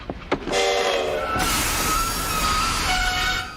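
A train runs on its rails with a continuous rumble and clatter, and a sustained horn or whistle tone rises over it. The sound is loud and close.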